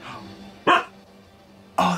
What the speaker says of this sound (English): When he barks, the lights turn on.